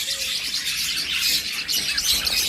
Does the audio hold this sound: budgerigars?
yes